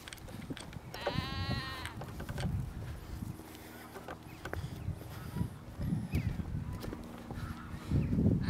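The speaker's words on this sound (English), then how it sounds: "I'm gonna walk through this field now with a sheep." A sheep bleats in a field with lambs near a country house, one clear wavering cry up close, followed by footsteps and rustling outdoor sounds.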